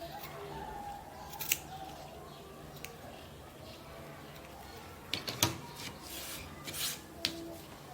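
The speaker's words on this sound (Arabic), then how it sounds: "هبدأ اقصه" Scissors snip through crochet yarn, a few quiet close cuts and a rustle standing out from a soft background hush, with light handling noise between the snips.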